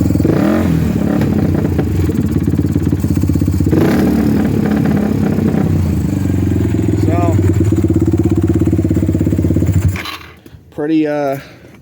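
An LTR450 ATV engine idles steadily and loudly with a low rumble and mechanical clatter, then cuts out near the end, leaving a brief voice.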